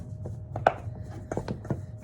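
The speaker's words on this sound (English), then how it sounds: "You're gonna continue to break your pieces apart and evenly distribute your butter" Butter being cut into flour for pie crust dough, giving soft scraping and chopping crunches with a few sharper taps, close and fairly quiet, with no speech.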